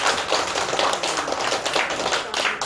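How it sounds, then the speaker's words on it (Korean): A Baptist church congregation at a Sunday worship service claps together in a loud, continuous burst of quick, sharp claps that carries on without a break. "이 사람 박수 칠만 하죠"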